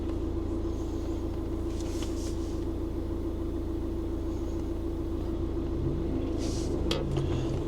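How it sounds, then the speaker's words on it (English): A throaty car engine rumbles low and steady from nearby traffic ahead, a continuous drone heard from inside a following vehicle, with faint brief rattles on top. "That sounds like that throaty car in front."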